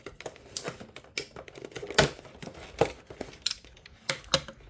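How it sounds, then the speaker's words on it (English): Cutting open the cardboard packaging of a Jurassic World Rebirth T-Rex toy box, a quick run of sharp ticking snips and scratchy clicks, close and fairly faint. "Alright, we gotta cut the box open too."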